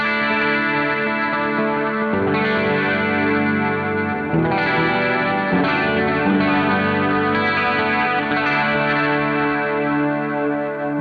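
An electric guitar runs through an Echo Square delay pedal on an affordable pedalboard, sustained chords ringing with dense repeating echoes and a chorus-like shimmer, loud and continuous with no voices.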